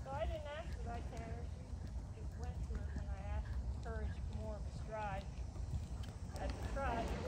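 A horse trots in a riding session, hooves clip-clopping in a steady rhythmic beat at moderate distance, under frequent instructional talk from a trainer.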